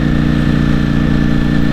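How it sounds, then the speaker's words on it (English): Ducati Panigale V4S superbike engine running loud and steady, a dense constant roar with a strong low rumble and no break. "this is a very loud bike"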